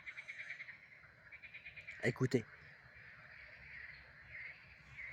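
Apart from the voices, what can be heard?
frogs croaking at night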